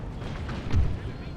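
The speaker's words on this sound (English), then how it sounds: "I'm gonna tell my cannons to keep returning fire." Cannon fire in the Empire Total War strategy game, heard as a muffled low boom amid battle noise, with someone talking over it.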